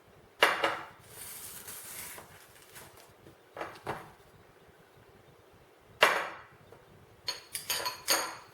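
A spoon scrapes and scoops homemade nice cream from a dish, several sharp clinks and scrapes in short bursts with quiet gaps, close and fairly soft.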